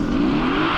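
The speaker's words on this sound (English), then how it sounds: "What we do find with a turbo upgrade is you do tend to get that spooling sound" A 430 kW 2019 Mercedes-AMG GT S V8 with upgraded turbos gives a short, loud, rising turbo whine over a steady engine roar, climbing in pitch across under a second.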